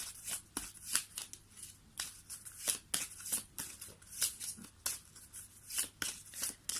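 Tarot cards are shuffled by hand in a quiet room, a steady run of crisp riffling and slapping bursts repeating at a brisk, uneven rhythm, close and fairly soft.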